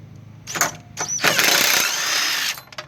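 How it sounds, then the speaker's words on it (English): A wrench and ratchet working loose a half-inch nut on the idler pulley of a Craftsman DLT3000 lawn tractor give brief metallic clicks and scrapes, then a longer grinding rasp from the turning fastener, heard close with no talk. "So with a wrench on this side and a ratchet on the other side,"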